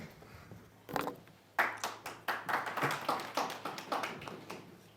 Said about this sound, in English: Thank you very much for that welcome clap.